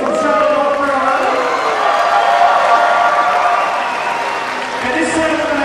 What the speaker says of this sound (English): how about a big round of applause for Miss Rachel from Charlotte, North Carolina?